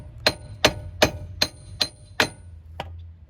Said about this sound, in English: just knock it out with the hammer, just like that